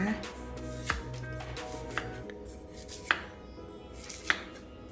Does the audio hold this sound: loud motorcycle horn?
no